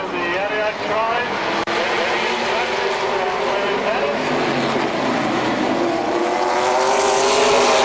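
Super Late Model race cars roaring at KilKare Speedway at the start of a 100-lap main event qualifier, engines droning loud and continuous with rising pitch as the pack accelerates, under an announcer's voice over the public address.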